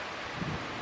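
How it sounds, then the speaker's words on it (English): Wind gusting at the onset of Hurricane Ian, a brief steady rushing roar with a faint rustle, heard alone. "It's getting really windy."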